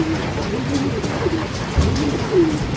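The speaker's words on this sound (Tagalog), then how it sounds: "Ayun yung kalapati natin." A racing pigeon arriving at its loft coos repeatedly in soft, low, rolling calls, close by, over a steady background hiss.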